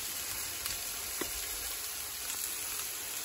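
Garlic frying in a Ridgemonkey pan for a Moroccan-style dish, a soft continuous sizzle with a couple of faint clicks, close by and without speech.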